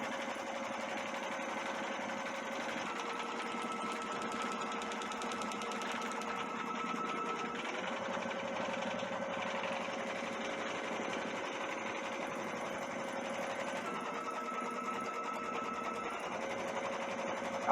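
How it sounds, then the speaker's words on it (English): A Brother Stellaire embroidery machine stitches out an Easter egg design, giving a steady, fast mechanical whir and rapid needle chatter that runs evenly throughout at moderate volume, with no talking. "we're getting ready to sew out our first egg that we made"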